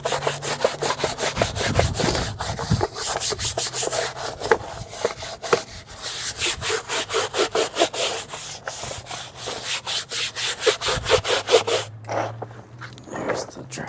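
Brisk back-and-forth scrubbing strokes on a truck during a wash, with a ceramic detail formula, rapid rhythmic bursts running nearly the whole time, close and fairly loud, with a faint voice at times.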